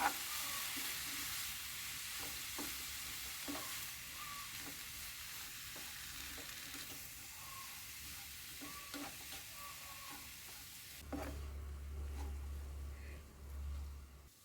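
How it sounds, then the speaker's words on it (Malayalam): Washed, chopped banana flower is stirred in a hot frying pan, a soft continuous sizzle with faint scrapes of the spoon, quiet and close, with a low rumble near the end. "വാഴക്കൂമ്പ് അത് കഴുകി വാരിയെടുത്തതാണ് അത് ഇതിലേക്ക് ചേർക്കാം നന്നായിട്ടൊന്ന് ഇളക്കി കൊടുക്കാം"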